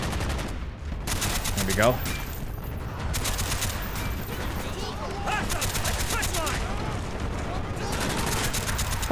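Rapid automatic gunfire and scattered shots from the Call of Duty Black Ops video game, set in the Frank Woods mission, crackle loudly and near-continuously with brief bursts between, while a voice speaks briefly over the shooting.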